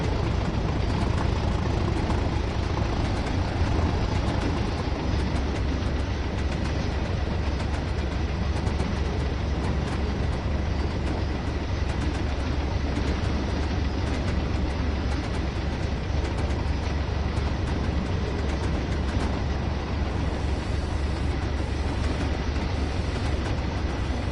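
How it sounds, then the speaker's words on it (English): A steady, unbroken rumble of a train in Train Sim World 2 runs loud and constant throughout, its wheels and motor droning without pauses or speech. "Any train enthusiasts, they'll just tell me it's the wrong sounds or something for the train."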